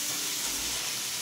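Mixed vegetables, including carrot, brinjal, potato and pointed gourd, sauté in a pan, giving a brief, dense, even hiss of frying with no pauses.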